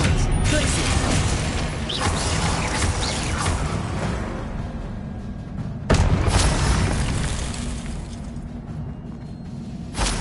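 The Confringo explosion spell in Hogwarts Legacy on PS5 sets off loud, rumbling game blasts layered with crashing, shattering debris and mechanical effects. A second burst lands midway through the clip.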